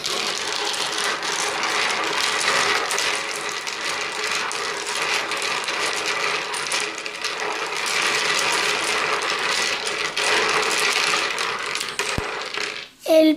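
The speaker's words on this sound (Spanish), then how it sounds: "Siempre hay que barajar primero de empezar." Domino tiles shuffled by hand across a table, a dense, continuous clatter of clicking tiles lasting throughout with no speech.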